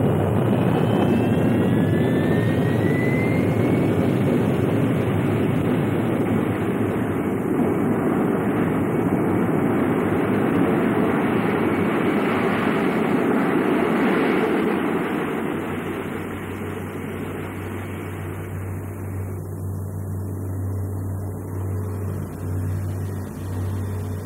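Simulated rocket takeoff breaking the sonic barrier in a Disney film: a loud continuous roar and rumble sustained throughout, swelling in the middle and easing slightly toward the end, with no talk.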